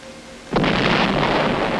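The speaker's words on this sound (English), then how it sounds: "Ships of the UN fleet fire point blank at the island. Rockets join the softening up process." Naval guns of a UN fleet and rockets bombarding an island at dawn during the Korean War: after a quiet half second, a sudden loud, sustained rumbling roar of firing and blasts fills the rest of the clip.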